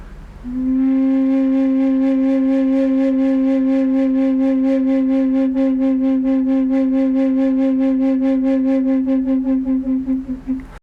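A wind instrument holds one long, steady note with a pronounced, regular vibrato pulsing throughout, loud and close, with no talking.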